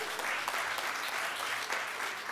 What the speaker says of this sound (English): Give her a little round of applause as well.